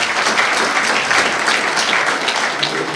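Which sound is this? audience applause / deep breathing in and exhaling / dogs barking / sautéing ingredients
audience applause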